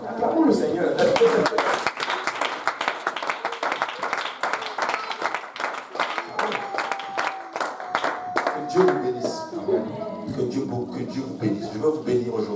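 At an evening church service, the congregation claps steadily and rhythmically in acclaim. The near, continuous beat runs under loud voices that speak and sing over the clapping.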